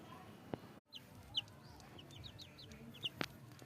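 Rhode Island Red chickens make faint, scattered clucks and short high peeps at a distance, with a few brief knocks and handling noises in between.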